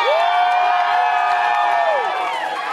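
A crowd cheers for a singer, with one long sustained whoop riding steadily over the general roar for about two seconds before trailing off.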